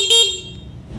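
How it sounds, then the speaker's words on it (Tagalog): A short, high-pitched beep from a Suzuki Raider FI motorcycle's stock horn, one brief toot that fades quickly into faint background noise. "Ito yung kanyang stock horn."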